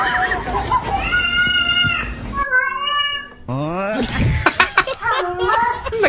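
A cat meows repeatedly in drawn-out, wavering cries, close and loud, with a sharper squealing call near the end and a voice talking between the cries.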